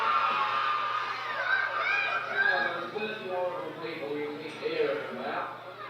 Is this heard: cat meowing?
no